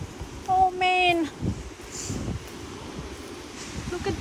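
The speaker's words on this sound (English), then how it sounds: "Look at the wind, it's windy." Wind gusting through leaves outdoors on a rainy-then-windy day, a steady broadband rustle with stronger surges, while a brief whistled or meow-like tonal sound rises early and a person's voice is heard briefly.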